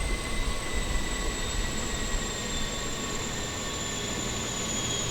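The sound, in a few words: aircraft engines spooling down in Microsoft Flight Simulator video game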